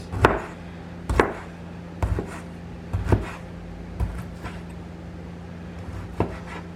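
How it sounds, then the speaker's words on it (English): A knife chops vegetables on a cutting board for Puerto Rican rice with pigeon peas, seven sharp, evenly spaced knocks about once a second, close and fairly loud over a steady low hum, with no talking. "And I'm just cutting everything up before I add everything else into the rice."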